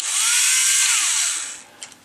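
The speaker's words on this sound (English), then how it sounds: "I took my Tamiya handy drill" A Tamiya handy drill bores holes in a thick model aircraft wing, giving a close, high-pitched whirring whine that holds steady, then winds down and fades, with a couple of faint clicks at the end.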